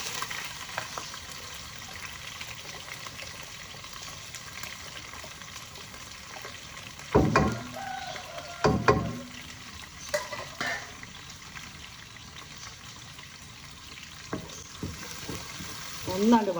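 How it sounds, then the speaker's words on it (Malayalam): Green chili, ginger and garlic sauté in oil for a ripe mango pickle with a soft, steady sizzle. Several louder clanks of a spoon against the pan come through at close range. "കളറൊക്കെ മാറി നല്ലൊന്ന് വഴണ്ടി വരണം"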